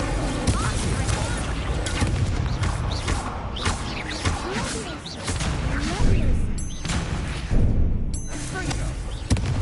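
Incendio fire spells cast in the PS5 game Hogwarts Legacy burst out as loud crackling, booming blasts amid dense combat effects, with faint game voices under the noise.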